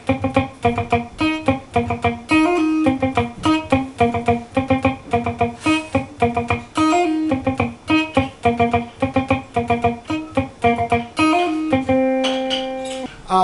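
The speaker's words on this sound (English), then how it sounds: "The muted guitar should sound like this." Palm-muted guitar strums a steady triplet pattern: choppy, percussive chords in an even rolling pulse, loud and close, ending on a held ringing chord.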